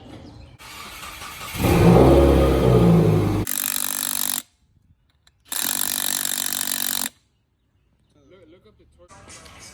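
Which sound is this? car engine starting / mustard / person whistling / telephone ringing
car engine starting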